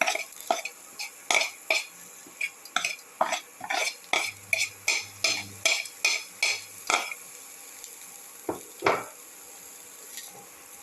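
Onion, shallot, ginger, fennel seeds and garlic are sautéed in a pan, heard as a rapid run of rhythmic spoon scrapes and clacks over a gentle sizzle, close by, slowing toward the end.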